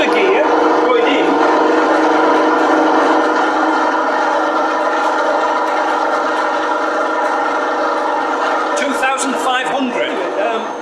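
LT230 transfer gearbox running in gear on a test setup at about 1732 RPM, giving a loud, steady mechanical whine and drone with layered tonal harmonics that holds throughout, roughening slightly near the end.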